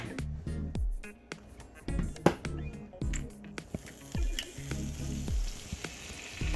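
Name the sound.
eggs frying in a pan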